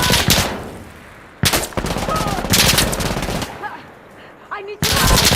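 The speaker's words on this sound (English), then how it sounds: "Machine gun!" Machine gun fire in the video game Insurgency: Sandstorm, loud sustained bursts of automatic gunfire with brief gaps, close and dense, with a short shouted voice near the end.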